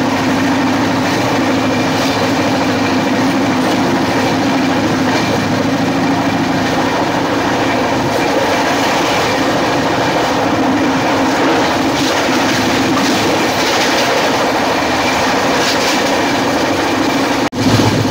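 The 22807 AC superfast express runs at speed, heard from on board as a loud, continuous rumble with a steady clickety-clack of the wheels. A brief knock comes near the end, and no one talks.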